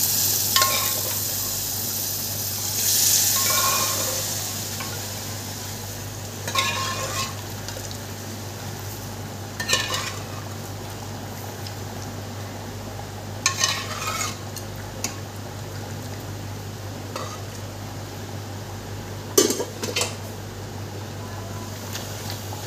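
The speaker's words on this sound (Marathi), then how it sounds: "हे बघा मटण टाकू आपण आता." Mutton cooking in black masala in a pot, with a low sizzle under occasional scraping and clinking stirs from a spoon against the metal, spaced out over a steady background hum.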